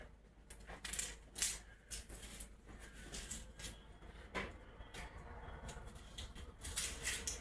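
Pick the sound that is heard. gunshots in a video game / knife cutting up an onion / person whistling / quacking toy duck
knife cutting up an onion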